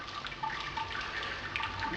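Wort drains through the grain bed during an all-grain brew day in a Brewzilla, a soft, steady trickle of liquid with faint drips, quiet and continuous throughout.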